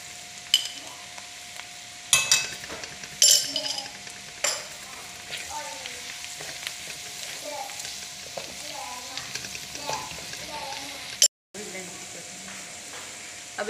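Onions frying in a pan with garlic-ginger paste for a mixed vegetable dish, a steady close sizzle with scattered stirring clatters and spoon knocks, a brief dropout near the end.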